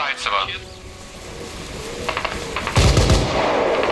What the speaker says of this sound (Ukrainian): Оце хто стріляє?